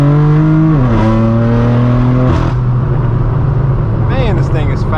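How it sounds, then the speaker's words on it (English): A straight-piped BMW M4 F82 with an AWE track exhaust and stage 2 tune roars loudly as it accelerates through gear changes on LA streets, the engine note climbing and dropping with pops and crackles layered over the steady rumble. "The crackles on this car just never gets old."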